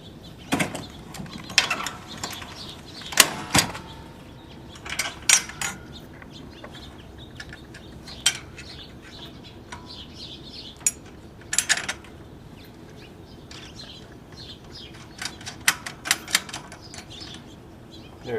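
Bolts being tightened on a homemade 12-volt trailer mule power wheel, heard as scattered metallic clicks and ratcheting taps at irregular intervals over a quiet background.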